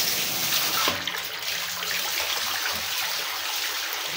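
Water gushes under pressure from a pipe being pulled out of a newly started borewell, giving a loud, steady, close rush that carries on continuously with no break.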